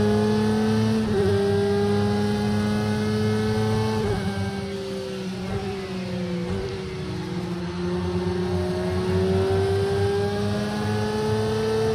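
GT1 race car engine in Project Cars 2, loud and steady with a rising and falling pitch as the car shifts and revs, running alone for the whole stretch without any talk.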